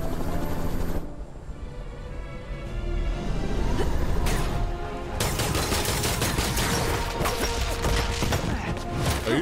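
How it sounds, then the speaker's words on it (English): Heavy bursts of gunfire in a Spider-Man video game, dense rapid volleys filling most of the clip after a brief quieter stretch, with mechanical clatter mixed in. "Oh, you just come in shooting at me"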